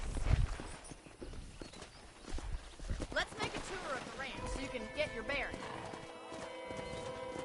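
Horse hooves clip-clop at a trot in the open-world western game Red Dead Redemption, with an occasional whinny, heard under a man's speech while ambient game music plays in the background.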